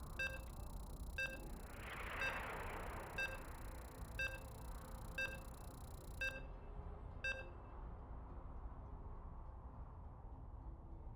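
A series of evenly spaced electronic beeps from a StarCraft 2 match start, about one per second, with a final higher-pitched beep, over a steady background hum.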